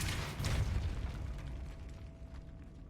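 A Depulso force spell cast in Hogwarts Legacy gives a loud, rumbling burst that swells and then fades into a low, hollow decay.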